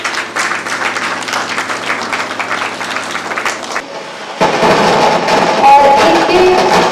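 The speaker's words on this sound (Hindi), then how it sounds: "तालियों से वंदना भी" Audience applause at a Good Friday 2025 church gathering with student songs: dense, steady clapping for about four seconds, then a brief lull before a fuller, busier stretch of crowd noise with some tonal sound mixed in.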